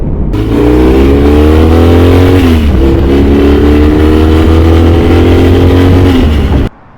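Motorcycle engine rumbling steadily while riding through a Black Hills valley about 35 miles from Deadwood, South Dakota, loud and close with a rising drone, a brief dip near the middle, then cutting off at the end.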